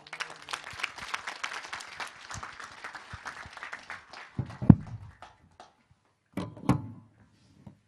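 Audience applause after a special lecture on forestry and science at KIST, a steady patter of many hands clapping for about four seconds, then fading into a few scattered thumps and brief noises.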